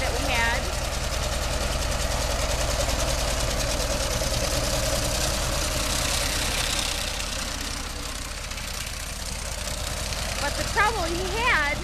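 John Deere 37 pull-type sickle bar mower cutting hay, pulled by a tractor whose steady engine drone runs throughout under the rapid chatter of the cutter bar, while someone talks faintly over it.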